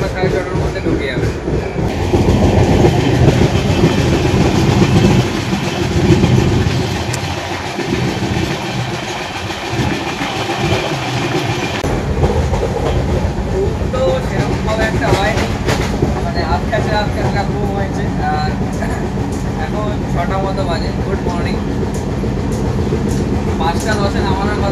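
Passenger train on a long journey to Puri, heard from inside as a loud continuous rumble and rattle of wheels on rails that eases slightly partway through, with people talking over it.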